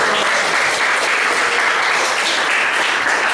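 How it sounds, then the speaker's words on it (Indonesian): Steady applause from a classroom audience at a teaching performance session, continuous broadband clapping that fills the whole stretch at close range, loud and even with no voices over it. "kita beri tepuk tangan"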